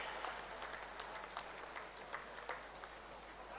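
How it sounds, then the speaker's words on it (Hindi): Faint, distant applause at an award ceremony honoring an Olympic hockey team and its support staff, a thin scattered patter of clapping heard briefly at low level. "जोरदार तालियां हमारी पूरी हॉकी टीम और उनके सपोर्ट स्टाफ के लिए।"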